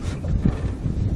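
Wind blowing off the shore during a sea boat trip, buffeting the microphone as a continuous low rumble and gusting roar with no voices.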